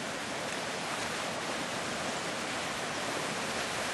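Steady, loud broadband rush of water from a hydropower turbine and its nozzles as the valve opens, a constant roar with no talk over it.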